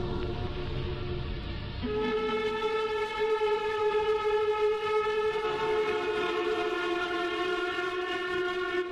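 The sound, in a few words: loud siren-like sound in ambient album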